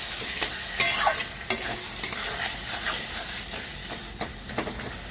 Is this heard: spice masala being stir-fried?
yes